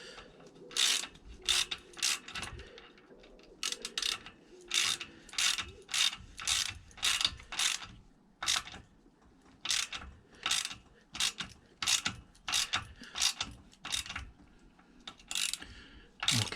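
Nut being tightened with a ratchet to draw a rocker shaft into a Triumph Bonneville T140 cylinder head, with washers packed to bulk it out; bursts of sharp, close ratchet clicks repeat in steady strokes with short pauses between.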